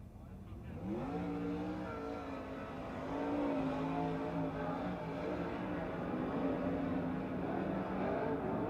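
410 sprint cars roaring through a seven-car heat race at Grays Harbor Speedway in the NARC King of the West series, engines revving and climbing in pitch as they pass; loud, continuous, with an announcer talking over the action.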